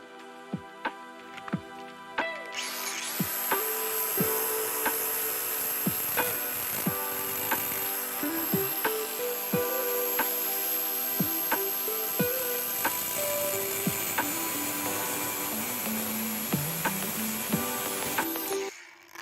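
A small slot being cut into the rusty bolt thread of a 1986 Range Rover V8 in a workshop: a steady, close grinding hiss runs for about sixteen seconds, punctuated by regular sharp ticks.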